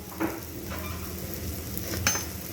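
A spoon stirs gram flour and rice flour in a hot pan with bitter gourd over low heat, making a soft sizzle with a couple of light scraping clinks against the pan and no speech.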